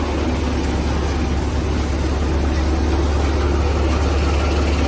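A tractor engine strains under a heavy load with four people aboard, droning steadily and loudly throughout, a constant low rumble with no pauses and no voices.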